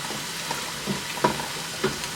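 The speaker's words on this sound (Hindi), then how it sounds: "लहसुन को प्याज वगैरह के साथ, अदरक लहसुन के साथ में अच्छे से यहाँ पे भून लेना है" Steady low sizzle of garlic, onion and ginger frying in a pan, with a few soft stirring scrapes and clinks rising above the constant hiss.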